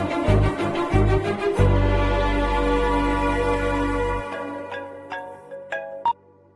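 A mobile phone rings with a bright melodic ringtone in a scene from the Telugu film Chal Mohan Ranga, loud and close and playing alone for several seconds before trailing off into a few separate chiming notes.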